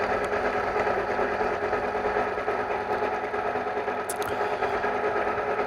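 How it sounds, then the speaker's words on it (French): A Gude GMD 400 CNC milling machine facing a plastic workpiece, giving a loud continuous whine with a steady hum, close and unbroken throughout. "nous refaisons un autre dressage avec un peu plus d'épaisseur juste pour voir les limites de la matière"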